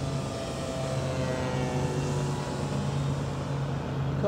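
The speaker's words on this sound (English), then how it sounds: "see if that's a wonderful little flyby, Alex." A propeller airplane passes in a close flyby, its steady engine drone holding loud and even throughout with a slight pitch shift, alone without voices.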